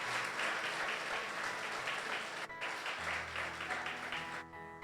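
A church congregation applauding during a Spanish-language service, steady clapping from many hands that holds for several seconds, moderately distant and fairly quiet.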